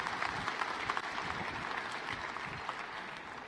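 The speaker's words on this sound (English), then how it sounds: "please, let's give another round of applause for our fantastic partners, SAP and Intel" Audience applause during a general session at Red Hat Summit 2015, a steady, fairly quiet wash of many hands clapping heard from a distance, continuing evenly throughout without speech.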